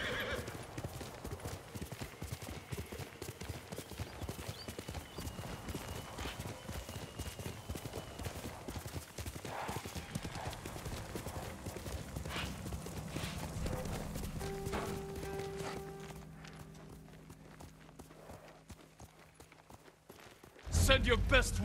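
Horse galloping in the video game Ghost of Tsushima, a fast steady patter of hooves with a whinny, fading into quieter ambience before a loud burst at the end, with a voice speaking over it.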